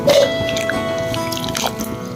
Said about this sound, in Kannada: ಈ ಕುಂಬಳಕಾಯಿನ ಇವಾಗ ನೀರು ಕಾಯ್ದಿದೆ ಇವಾಗ ಹಾಕೊಳ್ತೀನಿ